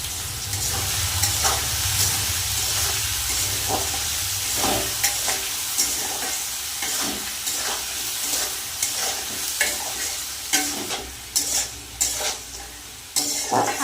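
Potatoes sizzle loudly in oil left from frying luchi, salt and turmeric added, while a spatula scrapes and clacks against the pan in frequent strokes that grow more rapid toward the end; no voices.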